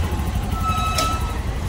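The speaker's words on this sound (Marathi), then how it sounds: "सो ट्रेन आली आहे." A local train pulling into Rega station, with a steady low rumble of wheels and carriages throughout and a brief high brake squeal near the middle, loud and close.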